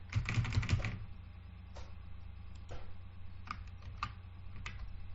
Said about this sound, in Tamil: அதனால டாக்குமெண்ட்ஸ் அப்படிங்கறத டைப் பண்றேன்.